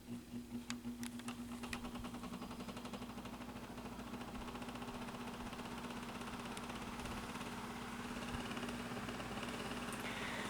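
A Kuo Horng KH-203 12-inch oscillating table fan runs on its low setting, giving off a faint, steady motor hum with slight mechanical rattles and ticks near the start.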